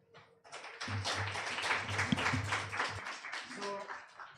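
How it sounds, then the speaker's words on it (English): An audience at a reproductive justice litigation panel gives a short burst of applause, dense clapping swelling for a few seconds before fading, with a voice briefly heard. "So clap for the panel once again."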